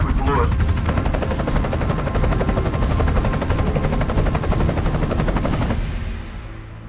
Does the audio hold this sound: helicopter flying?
yes